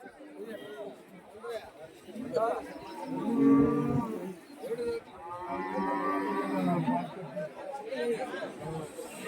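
Cattle lowing and mooing at a cattle market in Bagalur near Hosur, several animals calling amid crowd chatter, with people talking throughout close by.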